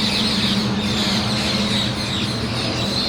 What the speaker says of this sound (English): you probably can't hear me over all of the birds